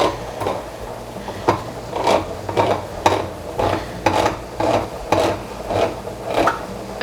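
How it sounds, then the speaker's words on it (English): A can of Tuttorosso crushed tomatoes with basil being opened: a repeated rasping grind as the opener cranks around the rim, about eight close strokes in a steady rhythm. "So I'm gonna open my canned tomatoes now."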